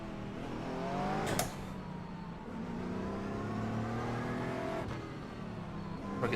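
Racing engine of a GT4 race car in the iRacing sim, droning steadily with rising and falling revs through gear changes, loud and close, with no talk over it.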